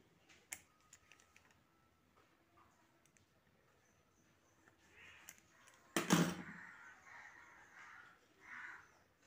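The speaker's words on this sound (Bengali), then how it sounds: "তারপর এরকম 3 কোণা করে কেটে নিচ্ছি।" A knife cuts rolled dough into triangles for homemade tomato chips on a board, giving faint scattered taps and clicks, then a sharper chop and soft scraping near the end.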